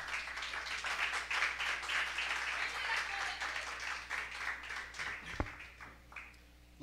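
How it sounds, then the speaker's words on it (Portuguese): A church congregation claps in praise, with sustained massed applause of many hands that carries steadily and echoes in the hall before tapering off near the end. "Exalte o Senhor com as palmas."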